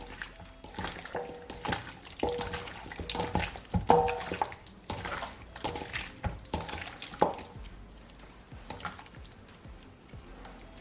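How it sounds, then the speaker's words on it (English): Chicken wings are mixed by hand with an added egg in a bowl, giving close, wet squelching and squishing with irregular slaps and soft clicks, moderately quiet and continuous with no talk. "Just gonna take my hand and just stir it all in."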